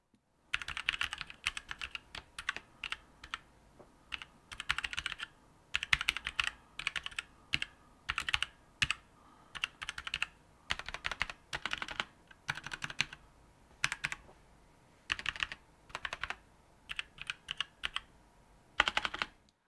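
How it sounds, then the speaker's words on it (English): Typing on a MotoSpeed Inflictor CK104 mechanical keyboard with red switches, quick bursts of clicky keystrokes in irregular runs with short pauses, close and clear with no talking. "If you're wondering about how the actual keys sound,"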